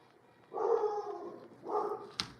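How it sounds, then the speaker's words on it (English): A feisty dog barks or yaps twice in short, moderately loud bursts, somewhat muffled as if from another room, followed by a brief sharp click. "dog is being feisty."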